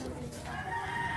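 A chicken clucks and calls against a steady, busy outdoor background, fairly close and moderately loud, with no clear talking.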